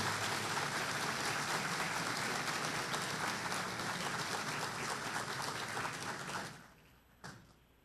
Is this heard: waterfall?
no